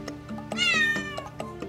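A bodega cat meows in a shop, a drawn-out, wavering cry that rises and falls over a soft indoor background, with lighter chirpy calls around it.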